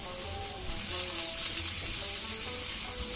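Peppers, onion and garlic sizzling in a frying pan for masala lamb chops, a steady close hiss of frying with light stirring, brightening briefly after the first second.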